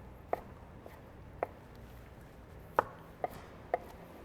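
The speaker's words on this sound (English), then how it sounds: "We're gonna do the chopping." Knife chopping through smoked brisket on a cutting board for tacos, five sharp, separate thwacks spaced irregularly over a low background hum, fairly close and moderately loud with no talking.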